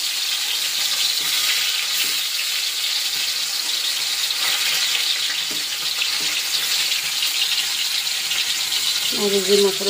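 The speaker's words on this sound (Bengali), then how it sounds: "পনিরটা ভেজে নেব এখন।" Paneer fries in a pan with a loud, continuous hiss of sizzling oil, and a brief squeaky scrape near the end.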